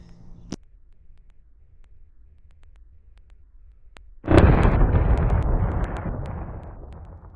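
A single loud rifle shot from a 350 Legend cracks out after a quiet pause, followed by a long booming echo that rolls and fades over several seconds outdoors.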